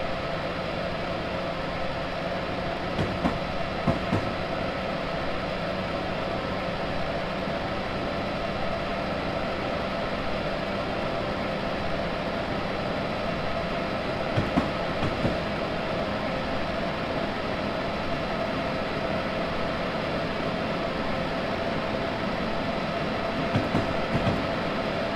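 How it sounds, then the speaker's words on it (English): A passenger train running toward Providence, heard from inside the car: a steady, loud rumble and hiss with a low hum, and faint rail clicks now and then over about twenty-five seconds, with no talking. "This is the train to Providence."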